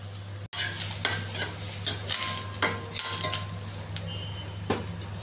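Onions sizzle in a hot pan with a pinch of salt, a steady close hiss broken by repeated scraping and clinking of a spoon stirring against the metal.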